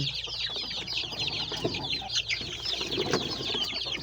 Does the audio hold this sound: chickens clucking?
yes